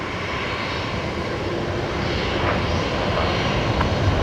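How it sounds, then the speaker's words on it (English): Velocity 352 airliner rolling for takeoff at Brisbane Airport, a loud broad engine roar that swells slightly as the run builds, heard from the spotting area at night. "And there's velocity 352 lined up, ready to go. Oh, rolling actually now."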